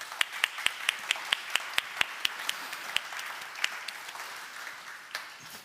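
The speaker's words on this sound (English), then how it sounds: "Please give them a round of applause." An audience at a conference gives a round of applause to a panel. Crisp, individually distinct claps come in a brisk rhythm at first, then thin into a softer, scattered patter.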